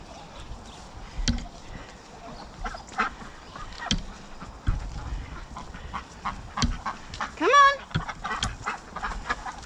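Ducks, chickens and a gander call in a backyard flock, with scattered quacks and clucks spread across the clip and a brief rising honk-like cry near the end, moderately close amid light rustling.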